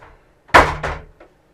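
A shower door swinging loose inside a converted bus as it reverses, two close, loud bangs in quick succession followed by a faint knock.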